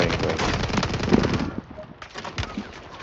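Rapid automatic gunfire in the video game Call of Duty Warzone, a loud dense burst of shots for about a second and a half, then fading to scattered fainter shots, with some talk faintly underneath.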